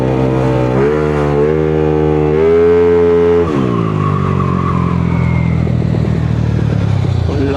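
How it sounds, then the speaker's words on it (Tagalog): A Yamaha Sniper motorcycle engine revving hard up close, the pitch climbing through two rising pulls before dropping away into a rougher, lower idle-like drone. "Na-drive natin yung motor ni Tampal."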